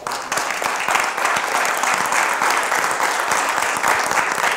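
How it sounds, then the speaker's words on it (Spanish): A seated audience at a talk on aquaculture concessions in Chile gives loud, dense, sustained applause that fills the room steadily from start to finish. "Fuerte aplauso para Constanza."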